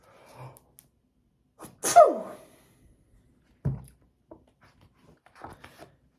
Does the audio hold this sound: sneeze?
yes